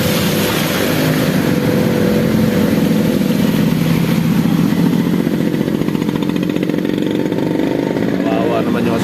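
A motorcycle engine idles loudly and close by in floodwater near an airport, a steady mid-pitched rumble that runs under someone talking throughout.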